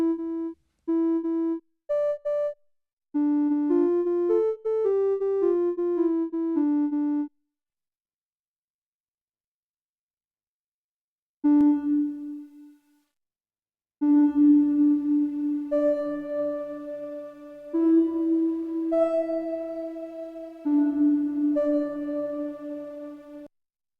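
Homemade digital synth plays clear melodic tonal notes, short phrases with echoing tails and a sustained driven section, separated by a long silent gap, with no voices.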